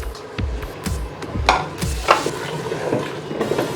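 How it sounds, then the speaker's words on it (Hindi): Crushed garlic and ginger fry in oil for a mutton and green pea curry, giving a steady sizzle broken by the scrape and clatter of stirring in the pan. "अब हम इसमें 1 खाने का चम्मच कुटा हुआ लहसुन डाल देंगे, 1 खाने का चम्मच कुटा हुआ अदरक।"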